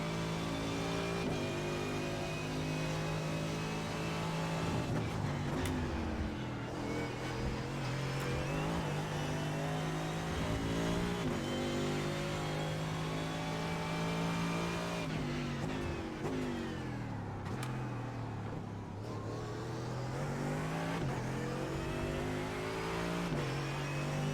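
A race car engine revs hard on the Donington circuit in iRacing, climbing and dropping steadily through the gears with shifts and brief tyre squeal, loud and continuous throughout with no talking.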